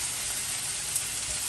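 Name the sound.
onions and mushrooms sizzling in a frying pan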